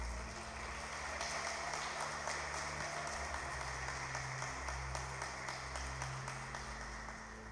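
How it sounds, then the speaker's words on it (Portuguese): A church congregation at a Mother's Day service claps together in a steady, sustained wash of applause, heard faintly from a distance. "aplauda o Santo de Israel"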